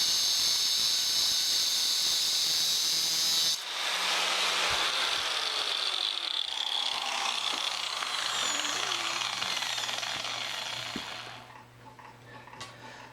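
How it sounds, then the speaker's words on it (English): Bench grinder spinning against the cut end of a steel drill press handle, a loud steady hiss and grinding whine that starts abruptly, holds for several seconds with scraping variation, then fades out as the part is pulled away. "I'm just going to take it over to the grinder, do a quick spin around that"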